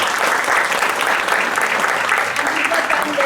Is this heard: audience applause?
yes